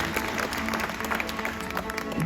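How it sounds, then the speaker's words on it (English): A live audience applauds at a glassblowing stage demonstration inside a glass factory in Corning, New York, a steady wash of clapping from a crowd that stays fairly even throughout. "Let's give her a big round of applause."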